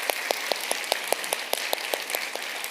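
A church congregation at a Sunday service in a Seattle downtown campus applauds with even, rhythmic claps filling the room at a steady pace, with no talk over it.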